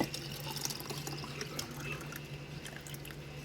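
Rosemary lemonade poured into a glass over a sprig of rosemary, heard as a steady, continuous splashing trickle of liquid close by, with no talking.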